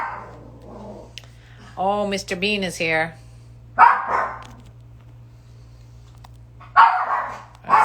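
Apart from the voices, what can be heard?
dog barking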